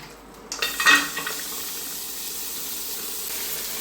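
Prawn legs hit a hot pan with a short crackling burst, then settle into a soft, steady sizzle that carries on alone.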